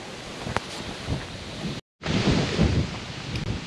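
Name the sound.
wind blowing on microphone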